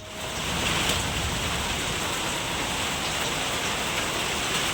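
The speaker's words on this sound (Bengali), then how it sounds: "ঝমঝমিয়ে বৃষ্টি শুরু হয়ে গেছে" Heavy rain pours down steadily in a dense, even hiss that holds at the same loudness throughout, with no voices over it.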